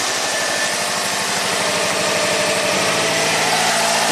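A Subaru engine with faulty ignition coils idles steadily up close, a loud continuous rumble with a fast regular pulsing beat that holds even throughout.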